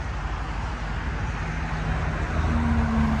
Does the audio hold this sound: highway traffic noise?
yes